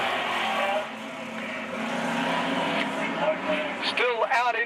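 Outlaw sedan race cars circle a speedway track on the final lap, a continuous engine roar with shifting revs and a few squealing tire sweeps near the end, while a commentator talks over it.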